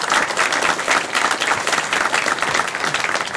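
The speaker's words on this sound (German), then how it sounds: "Ein Applaus für die Engel vom Chaos Communication." Loud, close audience applause at the Chaos Communication Congress for its volunteer angels: a dense, sustained burst of many people clapping at even intensity, with no talking over it.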